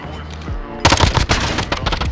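Rapid bursts of automatic gunfire ring out in a first-person shooter Search and Destroy match, loud and close after a brief voice at the start, with shots crackling in dense, uneven volleys.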